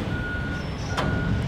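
A truck on a Miami street sounds its reversing beeps, a few steady electronic tones over street noise and engine rumble, with a brief hiss of air near the middle.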